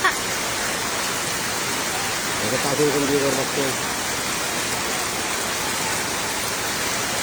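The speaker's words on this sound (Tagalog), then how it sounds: "Shit, lumakas pa yung ulan." Steady, dense rain hisses throughout, loud and close, with a person speaking briefly over it partway through.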